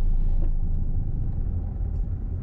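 Car engine during a driving lesson, a steady low rumble of a car driving and accelerating gently, heard from inside the cabin with no talking.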